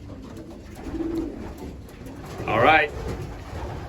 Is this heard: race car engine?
no